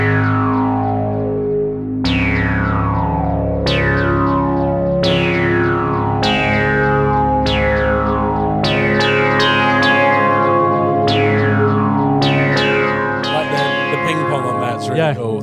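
An Arturia MiniFreak synthesizer plays a repeating patch of plucked, bright notes struck about every one and a half seconds, each decaying with heavy delay, chorus and distortion effects, loud and upfront.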